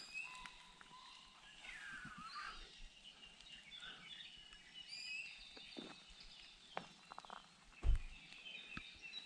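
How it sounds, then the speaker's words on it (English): Hawaiian forest birds call faintly from the trees at Hosmer's Grove, with scattered thin chirps and whistles over a quiet outdoor hush and a few soft footsteps or knocks nearby. "there's usually quite a few Hawaiian birds up here, but you can hear them"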